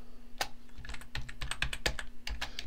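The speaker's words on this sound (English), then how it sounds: "Now I'm going to type in Sorio" Quick, light keystrokes on a computer keyboard come close by in an uneven run of about a dozen clicks over a faint steady hum.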